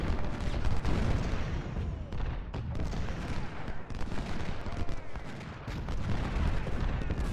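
Continuous dense rumble of battle in Ultimate General: Civil War, with artillery booms and rolling rifle volleys blending into a loud, sustained roar for several seconds, no speech.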